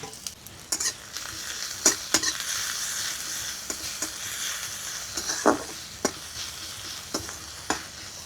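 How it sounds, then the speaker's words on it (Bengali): Chopped onion, crushed garlic and slit green chillies sizzle steadily in hot oil in a home kitchen, with sharp clicks and scrapes of a spatula stirring the pan throughout. "পেঁয়াজ রসুনটা ভাজা হয়ে গেছে"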